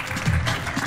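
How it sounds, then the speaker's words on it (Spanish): Brief burst of audience applause from a Spanish theatre or comedy show crowd, dense clapping throughout under a faint murmur of voices. "¡Un aplauso!"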